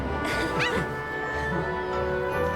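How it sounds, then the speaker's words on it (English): A dog yips and whimpers briefly in the background of a Genshin Impact Lantern Rite game session, with high, short yelps near the start over steady game music and ambience. "Apologize for the dog barking."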